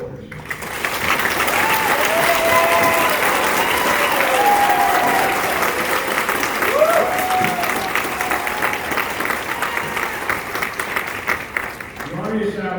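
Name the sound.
applause for soldiers at Fort Jackson ceremony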